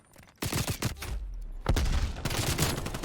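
Rapid gunfire from a Call of Duty Black Ops Cold War esports match: bursts of automatic shots and a dense fusillade, loud and continuous with short gaps, no voices over it.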